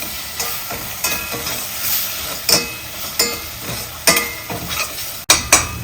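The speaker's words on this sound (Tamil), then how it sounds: "தக்காளி போட்ட வரை கொஞ்சம் நேரம் வதக்கணுமா? ஆமாம், நல்லா வதக்கணும்." Tomatoes sautéing in a pan for a plain vethu sambar: a loud continuous sizzle with repeated spatula scrapes and stirring clatter against the pan, close up and without speech.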